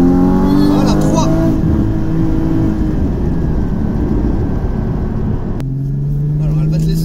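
A Porsche 981 GT4 at full throttle on a circuit during a driving course, its engine roaring loud and close from the cabin, rising in pitch through the revs before a gear change, with an instructor talking over it.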